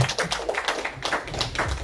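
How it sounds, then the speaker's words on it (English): An audience applauds at the launch event for an athletics meet. The clapping is dense and continuous, heard from a moderate distance in a large room. "please give a round of applause to, ladies and gentlemen, Lad Pillay"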